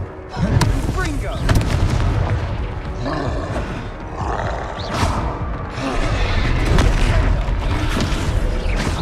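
The Confringo blast spell going off in the game Hogwarts Legacy, heavy booming explosions rolling one after another over combat noise, with a voice talking beneath them.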